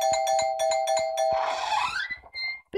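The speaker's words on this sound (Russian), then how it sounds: "Давайте в колокольчик." A doorbell in the video game Do Not Disturb 2 rings with a rapid series of bright electronic tones, then a longer sweeping chime that fades, close and clear with no talk.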